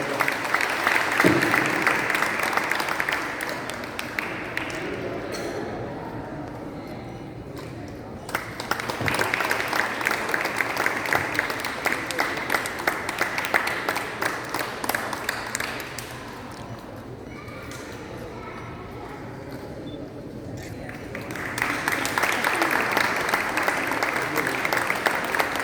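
An audience at an international Thirukkural conference in Toronto gives sustained applause, a dense wash of clapping that swells, eases off mid-way and builds again, with a voice briefly heard through it.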